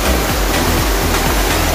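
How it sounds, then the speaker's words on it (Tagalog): Tinuyuan Falls in Abaca, Cauayan, roars as a dense, constant rush of falling water, close and loud throughout, with faint low thuds pulsing beneath the steady wash. "Yan yung Tinuyuan Falls na sabi nila."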